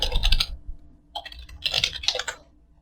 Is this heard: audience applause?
no